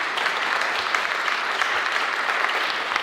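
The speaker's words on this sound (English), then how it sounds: "If I could just get another round of applause for the panelists." Sustained applause from an audience honoring the panelists at a discussion event on substance use, stigma and homelessness, a dense, steady wash of clapping that holds at an even level throughout.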